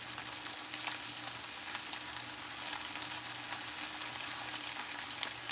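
Creamed corn or salmon croquettes cook in a hot pan with a steady, close sizzle and crackle, fine spitting pops scattered over a constant frying hiss, with no talking.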